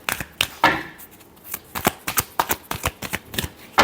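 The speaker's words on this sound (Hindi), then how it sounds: "last shuffle" Tarot cards shuffled by hand in a series of crisp riffling bursts and quick slaps, close and dry, with short pauses between flurries.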